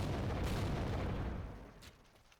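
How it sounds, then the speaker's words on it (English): A grenade blast in the video game Teardown, a loud broad boom that rolls for over a second and then fades out, with no voices. "I just threw a grenade"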